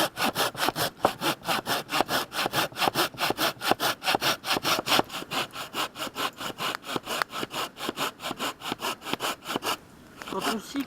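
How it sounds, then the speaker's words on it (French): A handsaw cuts through a wooden branch outdoors in quick, steady back-and-forth rasping strokes, close and loud, continuing evenly before stopping near the end. "Quand on scie comme ça, le bois a tendance à vouloir se resserrer sur la scie."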